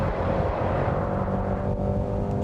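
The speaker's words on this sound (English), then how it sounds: "listen to that V8" A 2019 Mercedes-AMG GT63 S V8 engine holds a loud, steady, deep drone under load, with a thick low rumble and no pauses.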